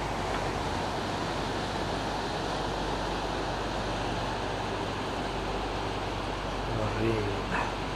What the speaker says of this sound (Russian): Рейн, однако, так мощно течет.